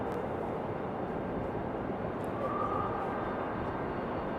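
Delta Boeing 737 airliner taxiing at Raleigh-Durham airport, a steady low engine rumble and hiss at moderate level throughout, with faint high whine.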